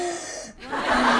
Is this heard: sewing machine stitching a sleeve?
no